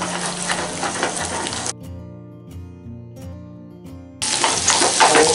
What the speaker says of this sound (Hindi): अब उसी तेल में हम शिमला मिर्च भी फ्राई कर लेंगे।